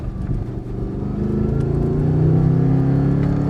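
An Audi R8 V8 supercar engine pulls steadily while driving, a loud, smooth drone that climbs gradually in pitch under light throttle, heard close with no voices.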